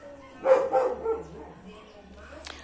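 A neighbor's dog barks several times in quick succession from next door, heard at moderate distance in a garden with potted succulents, followed by faint background noise.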